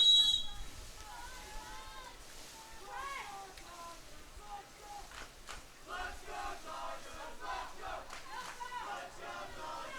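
A crowd cheers and shouts at a women's college water polo match between Pacific and San Diego State. Raised voices swell and fade continuously across the whole stretch.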